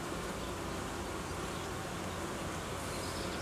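Honeybees swarming around an opened beehive during colony reorganization give a dense, continuous buzzing that stays steady and fairly loud throughout, with no voices.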